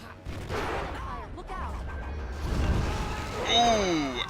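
Video game cannons firing in a rapid barrage of booms and crashes amid chaotic battle noise, with a person's voice exclaiming over the din.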